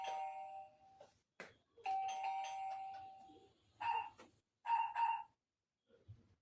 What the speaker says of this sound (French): ça sonne et après on entend le chien